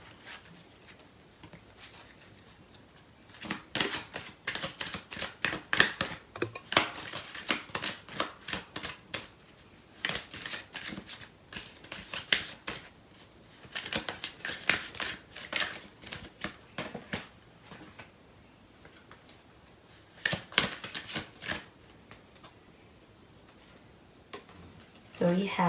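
A tarot deck is shuffled by hand in a long run of quick riffling and flicking card sounds, close and fairly quiet, with short pauses between bursts.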